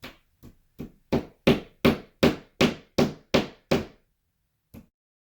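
Nails are hammered flat into thin wooden window trim in ten sharp, evenly spaced blows that build slightly in force, followed by a pause and one last lighter strike.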